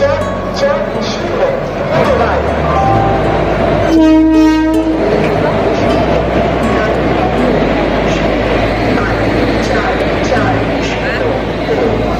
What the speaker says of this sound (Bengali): এই যে গাড়ি ঢুকছে দেখতে পাচ্ছেন, 9:07 ট্রেন ঢুকে গেছে।